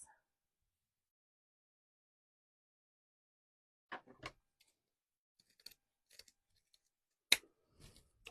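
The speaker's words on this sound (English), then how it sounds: "Grab the wrong scissors." Scissors snip during a spring hanger craft project, a few sharp, faint clicks and cuts scattered across a near-silent room, close and isolated with no talking.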